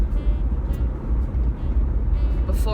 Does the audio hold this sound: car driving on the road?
yes